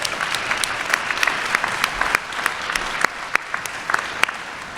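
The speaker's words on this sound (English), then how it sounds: "So let's all give Kevin a round of applause." A college event audience applauds, with dense, steady clapping from many hands close by that carries on evenly throughout with a few sharper individual claps standing out.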